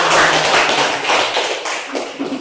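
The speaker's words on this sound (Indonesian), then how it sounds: "Oke, tepuk tangan dulu." Hand clapping from a class of students fills a classroom: dense, fairly loud, rapid broadband claps in an uneven rhythm, with no talking over them.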